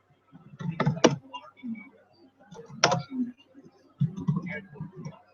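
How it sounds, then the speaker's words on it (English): Hard, forceful typing on a computer keyboard comes in quick bursts of loud clicks, with a softer murmur of voices and room noise beneath. "why this dude typing so hard"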